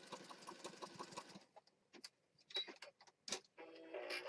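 A sewing machine stitches paper pieces down onto the edges of a Christmas junk journal, a steady rapid mechanical whir for over a second before it stops and resumes in short bursts between quiet pauses.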